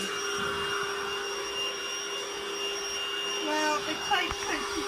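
A Lidl cordless Hoover vacuum cleaner running on carpet gives a steady high whine with a constant tonal hum, continuous and fairly close, with slight shifts near the end as it moves about.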